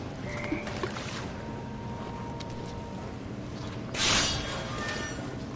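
Toads croak in a murky, maze-like setting, with scattered croaks over a constant rumbling backdrop and one louder, rougher burst near the end.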